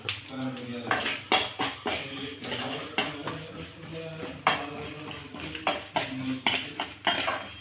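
A utensil scrapes and clinks rhythmically against a pan, with repeated stirring strokes over a steady frying hiss of rice roasting in ghee.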